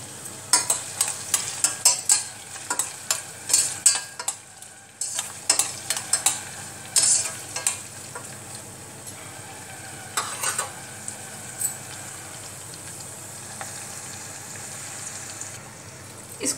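Fenugreek and nigella seeds fry in oil for a hair oil, with repeated sharp clinks and scrapes of a spoon stirring the pan over a soft sizzle that fades toward the end.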